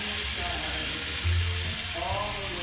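Garlic sizzles in a hot pan, a steady close frying crackle and hiss with a few scraping stirs of bits from the pan bottom, and no one speaking.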